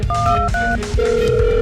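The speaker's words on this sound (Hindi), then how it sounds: "कम ऑन ईवा, फोन तो उठाओ" A phone rings unanswered in a cartoon setting, a loud electronic ringtone of short tonal bursts repeating, clear and close, with no talking.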